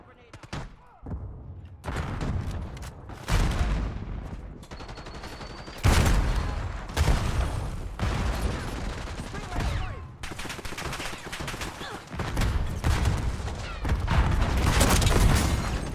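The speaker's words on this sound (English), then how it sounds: "Concussion grenade out" A concussion grenade bursts in a video game firefight, heavy booms and thuds landing amid loud, dense bursts of gunfire that keep going throughout, with voices talking over the combat.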